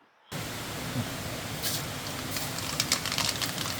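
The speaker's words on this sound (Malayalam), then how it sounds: "അതിലേക്ക് നമുക്ക് കടുകിട്ട് പൊട്ടിക്കാം" Mustard seeds splutter in hot oil at the start of a tilapia fish curry: a sudden steady sizzling hiss with scattered sharp pops and crackles, close and alone.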